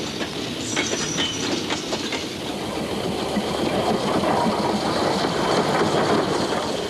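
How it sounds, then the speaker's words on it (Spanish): A train runs along rails with a steady, loud rumble and faint rhythmic clatter of the wheels throughout, growing slightly fuller toward the end, with no voices. "salía un tren desde Colonia cada minuto"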